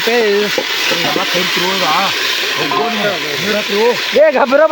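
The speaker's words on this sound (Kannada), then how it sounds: "ಉಳ್ಳಾಗಡ್ಡಿ ಹಾಕಾಕತ್ತೀವಿ ಸ್ವಲ್ಪ ಫ್ರೈ ಆಗಲಿ" Chopped onions sizzle steadily in hot oil in a pan as the base for a chicken curry, a continuous frying hiss running under near, lively talk from several voices throughout.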